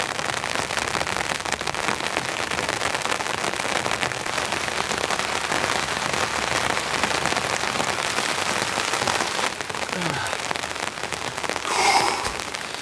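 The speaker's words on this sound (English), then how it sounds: "The rain has just set in, it's cold" Rain falls steadily on surfaces at a winter campsite in a storm, a dense continuous patter with scattered crisp drop hits, a brief louder spatter near the end.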